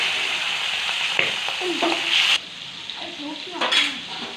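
Ritha fish frying in a hot pan for a dopeyaja, a steady close sizzle with a few clinks of a utensil against the pan and brief stirring scrapes, no voices.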